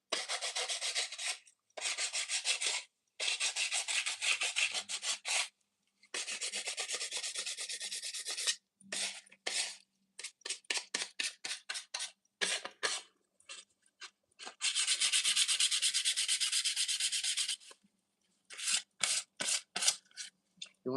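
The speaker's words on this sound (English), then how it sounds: "You just take your sandpaper, just give it a quick little sanding" Sandpaper rubs by hand over small shaved pieces in repeated bursts of gritty scraping, some short and quick, some longer steady strokes, with brief pauses between, close up and with no talking.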